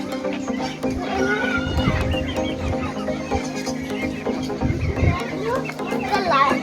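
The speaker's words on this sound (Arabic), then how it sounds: "هذا اللي عليه احمر هو الديك، والثاني هو الدجاج" Roosters and hens cluck and crow in the chicken enclosure of a bird park, the sounds layered over steady crowd chatter and people talking close by.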